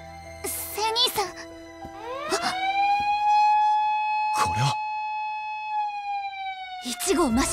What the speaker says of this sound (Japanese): 一号魔衆警報